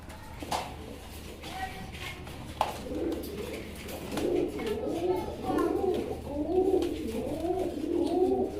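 Fancy and racer pigeons in a dealer's loft, including Bombay pigeons, give repeated low, rolling coos that build and continue steadily in the second half, with a few soft knocks and faint background voices.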